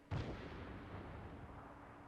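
A single distant artillery round booms in the military video game Arma 3, a short heavy thump whose rumble trails off slowly over the next two seconds, fairly faint and heard alone.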